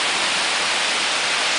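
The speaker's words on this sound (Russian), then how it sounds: "Это водопад." A waterfall on a high mountain hiking trail pours with a constant, dense, hissing roar close by, and nothing else is heard.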